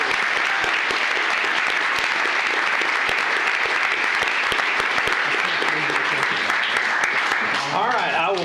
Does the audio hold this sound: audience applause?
yes